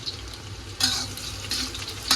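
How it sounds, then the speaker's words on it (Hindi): Tempering for a vegetable dish of cabbage and capsicum with onion, green chilies and spices: hot oil crackles and sizzles in bursts as a pan is stirred, close and moderately loud, with no talking. "मम्मी ये सब्जी में तड़का लगा रहे हैं।"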